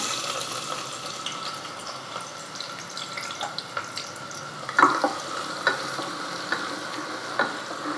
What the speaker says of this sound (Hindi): तेल गरम हो चुका है। सबसे पहले प्याज मिलाएंगे।